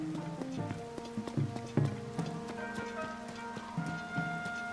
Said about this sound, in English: Because it's like always raining here.